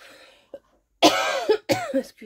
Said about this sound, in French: Excusez-moi, ça tousse.